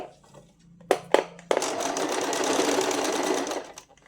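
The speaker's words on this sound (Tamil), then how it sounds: "சிங்கிள் ஃபுட் போட்டு இந்த ஸ்டோனுக்காக இது மேலேயே இப்போ தைச்சி ஃபினிஷ் பண்ணி உங்கள்கிட்ட காட்டுறேன்" A sewing machine fitted with a single foot stitches over a decorative stone. A few sharp clicks come first, then a steady, loud mechanical whir runs for about two seconds before stopping, with no voices.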